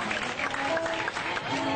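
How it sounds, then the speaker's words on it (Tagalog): Audience applause at a San Fernando fiesta in 2009, a short burst of steady clapping from a crowd in a hall, moderately loud and even throughout. "Dakal pong palakpak."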